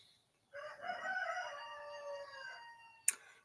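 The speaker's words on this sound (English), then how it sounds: "the rooster crows." A rooster crows once in a long, harmonic cock-a-doodle-doo, fairly faint and somewhat distant, followed by a short sharp click near the end.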